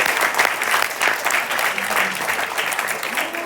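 Steady applause from a congregation in a church fills the space with dense, continuous clapping for a mother of six, with no talk over it.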